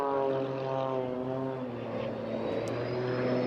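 A propeller-driven aircraft performs at the Eastbourne International Airshow, its engine giving a loud, sustained droning hum with shifting pitch as it manoeuvres close by.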